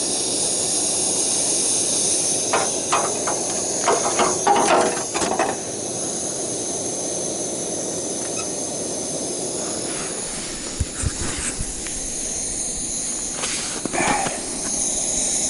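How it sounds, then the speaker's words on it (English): A steady, loud roaring hiss of a gas burner's blue flame at an outdoor winter camp runs throughout, with a few faint clinks and taps over it. "You can see how that thing is blowing a blue flame there."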